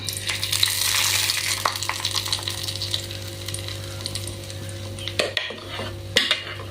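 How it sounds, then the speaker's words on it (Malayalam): Ground batter going into hot ghee in a pan for an evening snack, with a bright crackling sizzle and a few sharp clinks and scrapes of utensils against the pan. "ഇനി അരച്ചു വച്ചിരിക്കുന്ന മിക്സ് നമുക്കിതിലേക്ക് ഒഴിച്ചു കൊടുക്കാം"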